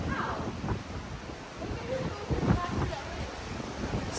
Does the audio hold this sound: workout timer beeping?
no